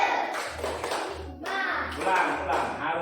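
A group of children doing a rhythmic spirit clap in a classroom, several short bursts of patterned clapping in quick succession, with voices chanting and talking over them.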